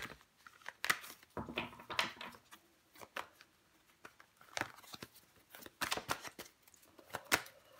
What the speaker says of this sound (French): Je vais recouvrir des cartes pour vous, les cancers.